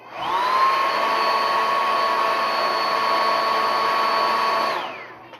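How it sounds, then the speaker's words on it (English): A handheld blow dryer runs steadily on hair during a sew-in weave, a loud constant whine and airy rush that holds for about five seconds before cutting off, with no talking. "you're going to get your blow dryer and blow dry it"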